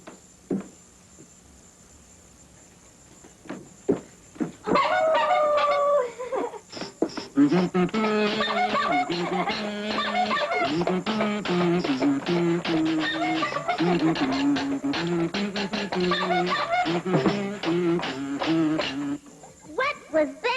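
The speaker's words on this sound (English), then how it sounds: "That was the sound of a one-man band." A one-man band plays a busy, jangly tune of rapid plucked and struck notes that starts faint, grows louder and carries on steadily before cutting off.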